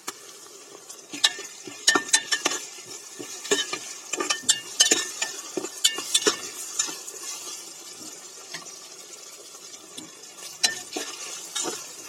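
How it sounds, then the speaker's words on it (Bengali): Ginger and garlic paste fries with spices for khichuri, a low sizzle under frequent clinks and scrapes of a spoon stirring in the pan, irregular and close, with no voices. "আদা রসুন একটু ভেজে নেব দিয়ে দেবো সব মশলা"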